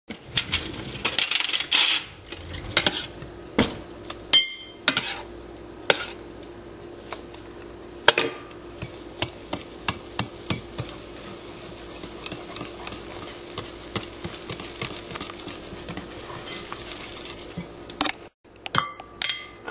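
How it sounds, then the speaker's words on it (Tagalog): A hand-operated manual mixer whipping tiramisu cream in a bowl, a run of close metallic clicks and clinks in uneven bursts, with brief pauses between strokes. "pagsasamahin natin siya using the regular manual mixer"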